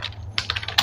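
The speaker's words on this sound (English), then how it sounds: "we need to type a code" Short burst of typing on a computer keyboard while entering code, a few quick clustered keystrokes up close over a low steady hum.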